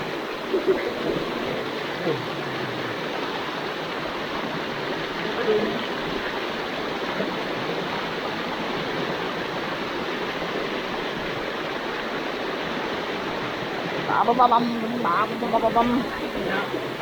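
A strong river current rushes steadily at close range, a continuous broadband wash of flowing water that persists throughout, with brief splashy disturbances near the end.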